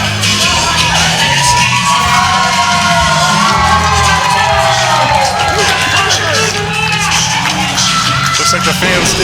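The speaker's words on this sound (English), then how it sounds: "They're giving them a healthy round of applause." Wrestling fans at an indoor independent show applaud and cheer loudly, a dense steady crowd roar with shouts and whoops, while a commentator talks over it.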